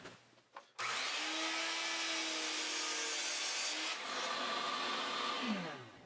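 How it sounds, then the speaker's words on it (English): A miter saw with its blade angled ten degrees cuts wooden legs for a step stool: a motor spins up and a steady, loud whining cut runs for several seconds with a slight dip midway, heard alone up close. "Over at the miter saw, I could adjust the angle of the blade by 10 degrees, and then I could cut the legs to their final length."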